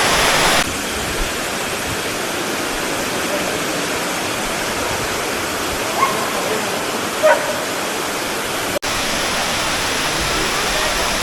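The main waterfall at Cascada Juan Curi near San Gil sends out a steady, loud, broadband roar of falling water that continues unbroken, with a short cut partway through.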